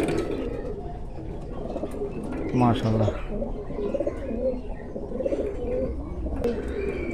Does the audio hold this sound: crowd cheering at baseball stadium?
no